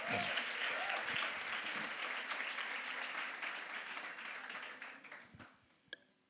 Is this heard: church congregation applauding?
yes